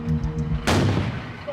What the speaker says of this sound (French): une explosion retentit